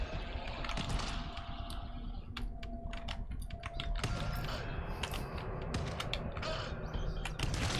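Rapid clattering keystrokes as a code is typed on a terminal keyboard in the GTFO survival horror video game, with mechanical creaks and game ambience continuing beneath.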